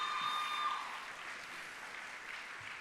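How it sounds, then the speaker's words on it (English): Audience applause at a college orientation for scholars, a soft, steady patter of clapping from a crowd that fades slightly toward the end. "give her a big round of applause"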